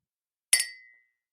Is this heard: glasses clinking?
yes